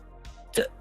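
A single short, sharp sneeze, preceded by a brief intake of breath, close and fairly loud.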